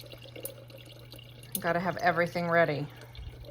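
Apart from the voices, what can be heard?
filling a cup with water from a tap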